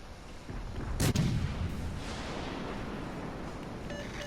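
Warship guns firing HE shells in World of Warships Legends, one loud booming salvo near the start, followed by a low rumbling tail under steady game background noise.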